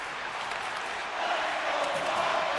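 Ice hockey arena crowd in a hockey video game, a steady, loud roar of many voices that swells slightly midway and holds without breaks.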